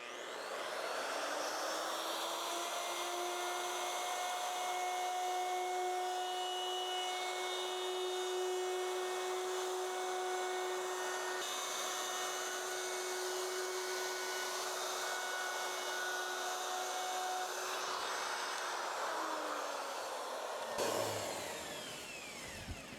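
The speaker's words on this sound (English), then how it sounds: "now I'm gonna go around the back edge and round it over with the router." A high-pitched router motor screams steadily for about twenty seconds, rounding over a wooden sign's edge, close and loud, its tone shifting slightly as it cuts, then spinning down at the end.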